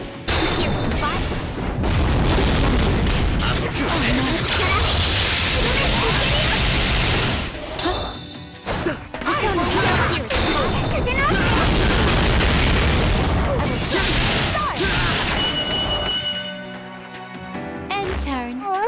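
A fire spell attack explodes in the Xenogears role-playing game, with loud, dense booming blasts and crackling bursts that keep going for long stretches before dying away, mixed with game sounds and what seems to be talking.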